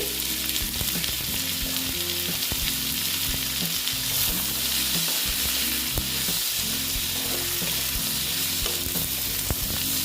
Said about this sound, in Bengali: হলুদ দিয়ে একটু ভালো মতো এটা ভেজে নেব দেখো বন্ধুরা আবার একটু নেড়ে চেড়ে নিচ্ছি